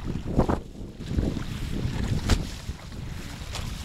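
A sailboat glides past on the water off the Danish island of Endelave, heard as soft lapping and swishing of water under strong gusty wind buffeting the microphone, with no voices.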